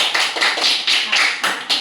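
Children clapping their hands during an Independence Day question-and-answer session, a short burst of about seven or eight bright, close claps in quick, slightly uneven rhythm.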